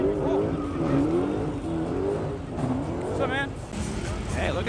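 A race car rolls past at an evening Cars and Coffee show, its engine note rising and falling as it moves by, heard beneath steady crowd chatter and nearby talking.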